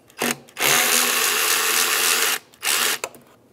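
A power tool whirs in bursts while loosening a 10 mm band clamp on a Mazda CX-9 intake tube: a short spin, a long steady run, then two more short spins, loud and close.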